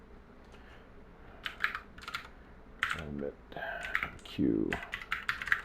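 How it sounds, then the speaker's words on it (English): A computer keyboard typing a command into a Windows command prompt, a few quick clusters of key clicks mixed with someone talking over them nearby. "So we should be able to type in"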